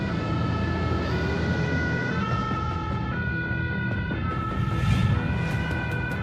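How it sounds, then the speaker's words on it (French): Two fire engines pull out of a station on an emergency call to a shop fire, their sirens wailing steadily over continuous traffic and engine rumble, loud and close throughout. "Deux camions anti-incendie partent sur un gros sinistre."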